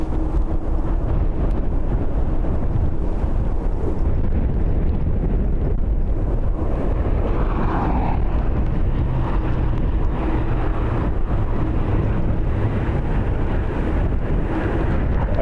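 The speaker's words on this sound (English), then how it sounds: "Very strong wind." Very strong wind buffets the microphone at Dublin Airport, a loud, continuous roar and rumble that surges and eases throughout with no voices.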